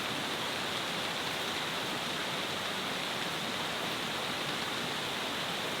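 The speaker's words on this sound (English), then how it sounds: "Wow, I really wasn't expecting this rain." Steady, dense rain hisses continuously at a campsite, with a uniform roar and no breaks or voices.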